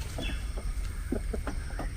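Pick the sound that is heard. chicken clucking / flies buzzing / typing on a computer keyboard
chicken clucking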